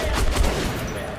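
Dense, continuous gunfire from the Metro: Last Light video game, with overlapping rapid bursts forming a loud, unbroken barrage.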